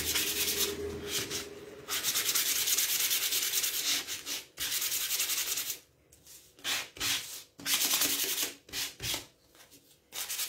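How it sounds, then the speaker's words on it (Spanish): Hand sanding a wooden letter, rhythmic close rasping strokes in repeated bursts with short pauses between them. "la voy a lijar un poquito"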